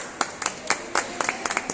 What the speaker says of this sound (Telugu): సూపర్ సూపర్, క్లాప్స్ కొట్టండి.